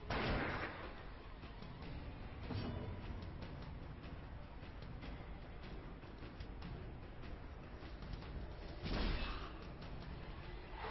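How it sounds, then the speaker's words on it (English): Gunfire-like blasts in the video game Darkest Dungeon, a pistol shot among them: a loud sharp burst near the start, another around the middle and a heavy boom near the end, over a dense, rumbling game soundscape. "Pistol shot, yep."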